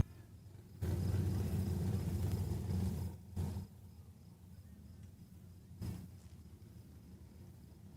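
A Sportsman-class drag car on radial tires launches down the strip at Saskatchewan International Raceway, a loud sustained roar for about three seconds that cuts off, followed by a shorter burst of noise a few seconds later.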